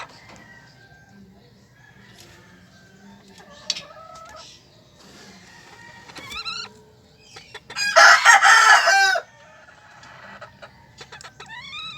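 Golden Sebright chickens in a small backyard coop cluck softly and intermittently, then one bird lets out a loud crow lasting about a second, with more scattered clucks before and after against a quiet background.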